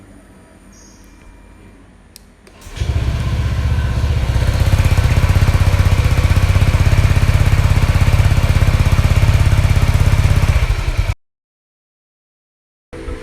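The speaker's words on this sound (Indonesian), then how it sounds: "Suara knalpotnya Abel." The exhaust of a Honda Vario 150 scooter styled in Vietnam fashion roars up from a quiet start, then holds a steady, loud, close drone before cutting off abruptly into silence.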